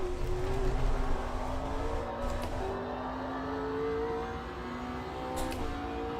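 Racing car engine in the Automobilista 2 sim, a steady moderate drone with a rising, shifting pitch as the car accelerates through gears, heard alone without talk.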